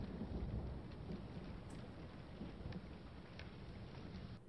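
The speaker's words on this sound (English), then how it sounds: "It's always raining." Steady rain with a low rumble of thunder in a scene from Harry Potter and the Goblet of Fire, a continuous dense hiss at moderate level with no voices over it.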